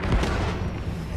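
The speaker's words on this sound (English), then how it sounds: "secondary explosion on the right engine" Deep, booming blast of a ship engine exploding in the Iron Man VR game, a single heavy low thud at the start that rolls into a dense, rumbling wash for about a second.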